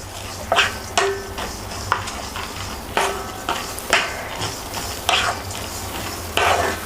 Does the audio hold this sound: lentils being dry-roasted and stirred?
yes